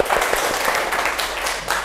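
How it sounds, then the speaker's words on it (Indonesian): A group of participants claps hands together during a positive school culture training session, a dense, steady patter of many hands close by, continuous throughout with little other sound. "Ya, tepuk tangan."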